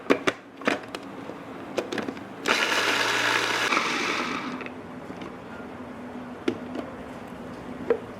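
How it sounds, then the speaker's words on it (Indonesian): A blender grinds coriander and spice paste with a little water, a steady whirring burst of about two seconds amid scattered clicks and knocks of kitchen handling. "Kemudian ini ketumbarnya kita semua haluskan bahannya ya."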